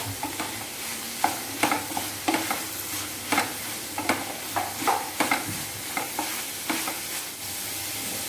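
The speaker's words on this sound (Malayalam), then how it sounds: "എന്നിട്ട് നന്നായി മിക്സ് ചെയ്തിട്ട് വഴറ്റി നന്നായി ഒന്ന് വഴന്ന് വരണം" Mushrooms and curry leaves sautéed in a pan, Kerala style, with a constant sizzle and a brisk run of repeated scraping stirs close to the listener.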